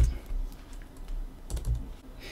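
Soft, close keystrokes on a computer keyboard in a warm office, irregular clusters of taps with brief pauses, fairly quiet.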